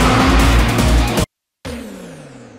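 Car drifting in a Japanese street-racing scene with loud engine roar and tire squeal, cut off abruptly by a brief silence before a quieter, fading engine tone resumes.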